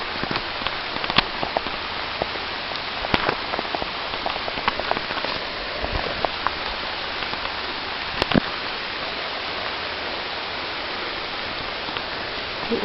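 Steady rain patters on foliage and the ground during a forest hike, a close, even hiss with occasional louder drops striking nearby, no voices.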